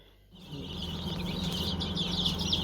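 After a brief quiet start, many young chicks cheep continuously in a high-pitched, busy chorus close by.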